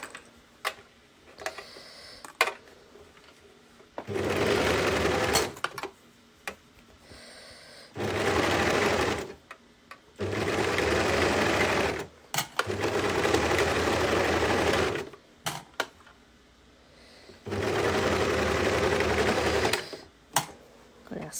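A sewing machine stitches the underarm seam of a baby tee in four sustained runs of steady motor whir, separated by quiet pauses with small clicks and handling noises.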